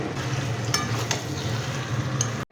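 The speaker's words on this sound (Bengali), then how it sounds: "আমার মা এই কষা মশলাগুলোর ওপরে মাংসগুলো এক এক করে দিয়ে দিচ্ছে। এরপর সব একসাথে নিয়ে কষতে হবে।" Chicken pieces are added one by one to sizzle in a wok over fried spice paste. A dense, close frying hiss runs throughout, broken by a few clinks of stirring.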